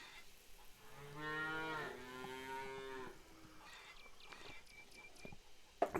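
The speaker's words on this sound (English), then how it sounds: "Milk that cow." Cattle moo in the farming video game Farmers Dynasty, with one long, drawn-out low moo followed by a shorter one, fairly faint, and a few small clicks toward the end.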